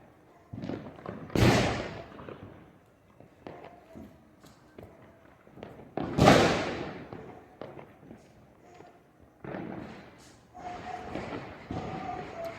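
Diwali firecrackers going off outdoors: three or four sharp, loud bangs spaced several seconds apart, each trailing off into crackle, with quieter pops and faint background noise between them.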